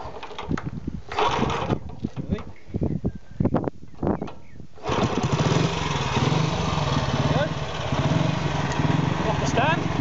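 A 1950s MV Agusta Idrobad 175cc motorcycle engine sputters through a few kick attempts, then catches and runs with a steady, close putter while a voice speaks.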